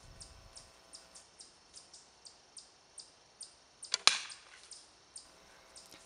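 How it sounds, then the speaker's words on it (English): A stone-tipped arrow hits a wooden Iroquois leg armor panel with one sharp, loud crack. Faint, regular ticking clicks come before and after the strike. "The arrow directly struck the panel."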